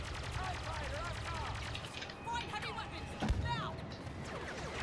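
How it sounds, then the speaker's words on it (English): Bursts of gunfire and blasts from detonators in Star Wars Battlefront II gameplay, rapid repeated shots with heavier impacts midway, a voice talking over the action. "More detonators. More explosions."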